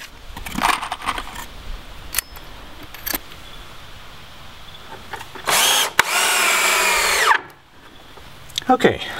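A cordless drill with a nearly dead battery drives 2.5-inch screws into a compost toilet door in a tiny house, with short whirring bursts, clatter and handling noise, then a longer close buzzing run, with faint talk between.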